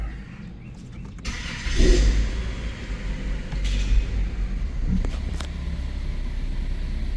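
A car on a road test after a P0340 camshaft position sensor code: a steady low engine rumble throughout, swelling as it pulls away around the second mark, with road noise continuing beneath.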